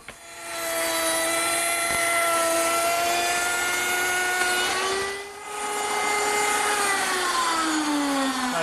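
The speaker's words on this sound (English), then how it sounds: "And I'll use my router table to do that." Router table fitted with a slot cutter machining a groove along the edge of a wooden board, a steady high motor whine with harmonic tones that dips briefly as the cut load changes, then resumes alone and close.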